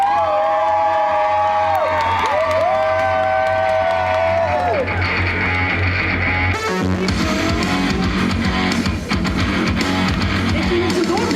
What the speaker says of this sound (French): Bah applaudissez-les quand même.